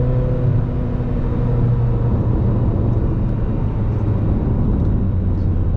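A 1996 Ferrari F355 Berlinetta on a test drive gives a steady, loud cabin drone of engine and road rumble, a low hum holding constant with no voices.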